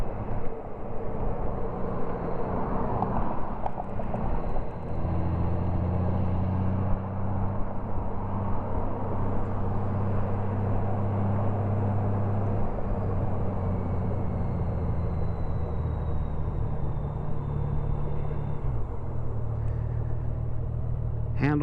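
2015 Honda Valkyrie motorcycle engine on a ride, a deep, continuous low bass exhaust rumble that holds steady for the whole stretch, mixed with wind noise, while someone talks over it.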